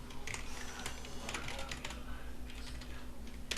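Quick, steady typing on a computer keyboard, close and quiet, with soft clustered key clicks running throughout and no talk over them.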